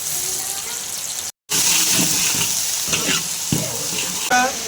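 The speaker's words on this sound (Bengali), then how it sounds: "আমরা কড়াইতে আমরা তেল দিয়ে দিয়েছি, এবার আমরা পেঁয়াজ কুচিটা দিয়ে দেবো" Chopped onions fry in oil in a wok, a steady bright sizzle broken by a brief drop-out, with intermittent clatters of stirring.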